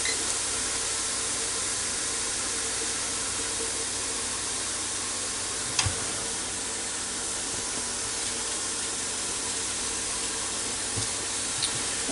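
Beef cube steak, USDA Choice all-beef, cooking on a George Foreman grill, giving a steady close hiss of sizzling that runs the whole time, with a couple of faint clicks and no talk.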